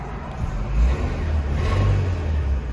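A car engine revved briefly while being treated with Seafoam, a low, steady rumble that swells slightly in the middle, close and fairly loud, with no talking.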